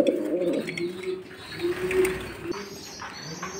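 Racing and Giribaz pigeons coo close by in a market cage, a low throaty burble repeating in soft rolling phrases over a few seconds.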